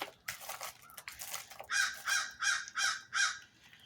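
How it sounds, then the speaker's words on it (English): Crows caw outdoors, a series of five loud, evenly spaced harsh calls after some quieter, scattered bird sounds at the start. "There went a big old crow."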